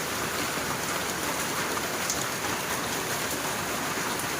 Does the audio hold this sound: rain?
yes